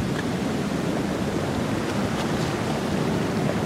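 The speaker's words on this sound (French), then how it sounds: "Voilà, l'eau se retire." Sea waves wash against a rampart and the water draws back, a continuous loud broadband rush of surf, close to the listener and steady throughout, with wind buffeting the microphone and no speech.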